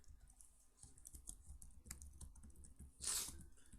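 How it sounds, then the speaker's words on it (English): Computer keyboard clicking and typing while a word is looked up online, a steady run of small taps with a louder burst of clicks near the end, close and alone with no talk. "Sorry about all the clicking."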